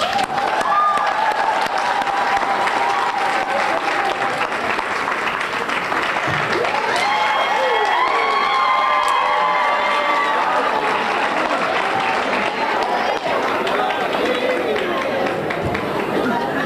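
An audience applauds and cheers loudly and continuously as hip-hop pioneer Doug E. Fresh enters, a dense wash of clapping with crowd chatter and a voice speaking over it.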